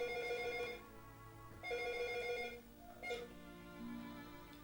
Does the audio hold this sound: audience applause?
no